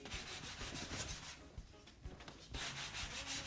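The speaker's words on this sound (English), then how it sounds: "I'm using the 80 sander. I'm doing it by hand" Hand sanding of wooden stairs with 80-grit sandpaper produces steady rhythmic scraping strokes, loud and close, with a short pause partway through before the rubbing resumes.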